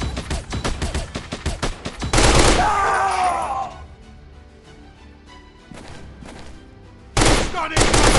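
Rapid bursts of gunfire from a shooting video game come in quick volleys, with a loud sustained blast and later bursts, while players shout over the action.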